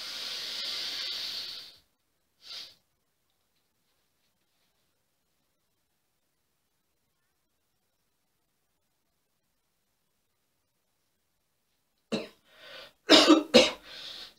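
A person exhales forcefully during a yoga breathing exercise, then after a long silence coughs several times in a short burst close to the listener.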